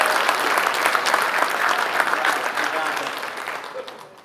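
An audience at the National Association of Letter Carriers Heroes of the Year event gives a burst of dense, hearty applause that holds steady, then gradually fades away toward the end.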